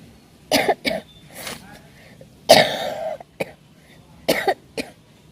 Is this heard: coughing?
yes